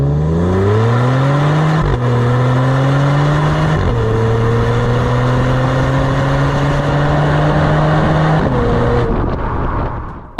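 A 2022 Genesis G70's 3.3-liter twin-turbo V6 pulls hard, its tone rising steadily through several gears with brief dips at each shift before fading away at the end, loud and with no talking.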